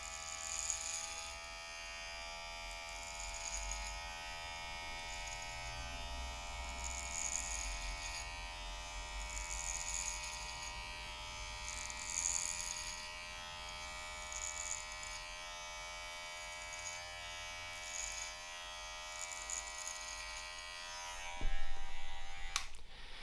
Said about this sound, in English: Starting with the clipper low down,